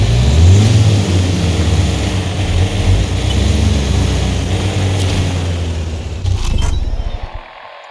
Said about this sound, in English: Scan the crash site with the drone.